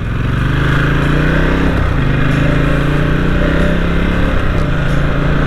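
A Ducati XDiavel motorcycle engine drones steadily and loudly through city riding, a continuous close rumble with slight pitch shifts as it accelerates, no voices.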